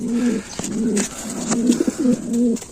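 Racing pigeons coo repeatedly at a loft landing board, several soft throaty coos in a steady rhythmic pattern close by, with no talking.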